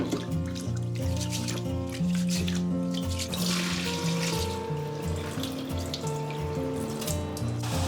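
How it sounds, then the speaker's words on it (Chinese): Rice being rinsed in clean water before boiling, with running, splashing water heard steadily beneath prominent background music throughout. "我们加入清水给它淘洗一遍"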